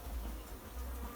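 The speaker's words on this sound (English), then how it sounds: "That's her swarm." A swarm of bees being extracted into a hive box gives a faint, continuous buzzing hum from many insects at once, steady and without pause over a brief moment.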